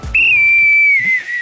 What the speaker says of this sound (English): It's just not working, this whistle anymore.